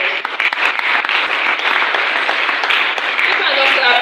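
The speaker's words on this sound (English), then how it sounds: "Please, let's give her a round of applause." Workshop audience applauding together, a dense, steady wash of many hands clapping throughout, fairly loud and close.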